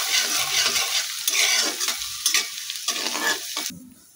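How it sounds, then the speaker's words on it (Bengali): Garlic cloves and dried red chillies fry in hot oil with a steady, loud sizzle and crackle, broken by the scrape of stirring, then drop away abruptly near the end; radish greens are the dish being made. "রসুনটা আর লঙ্কাটা একটু ভেজে নিচ্ছি।"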